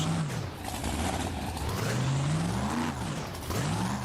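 Engine roar from the AM/PM Rocket in BeamNG, loud and continuous with rising and falling revs as the car climbs onto other cars, no voices present.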